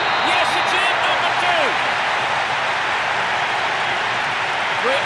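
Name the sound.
crowd cheering a goal in video game PES 6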